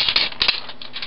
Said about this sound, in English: let's just take this plastic off